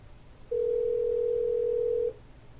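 A steady telephone dial tone, heard while dialing through desk phone software, sounds alone for about a second and a half, clean and constant, then stops abruptly.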